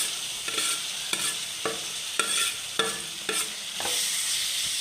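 Fried bitter gourd pieces being stirred into a pickle masala in a pan for a bitter gourd pickle, with repeated scraping stirs at a steady rhythm over a soft continuous sizzle, close and alone without any voices.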